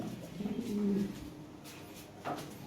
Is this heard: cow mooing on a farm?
no